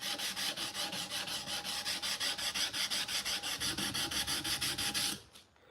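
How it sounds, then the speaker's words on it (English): Sandpaper rubs briskly back and forth over wood in close, even strokes, about five per second, a scratchy rasping rhythm that stops suddenly near the end. "this sandpaper doesn't get clogged very easily"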